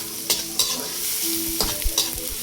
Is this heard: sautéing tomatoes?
yes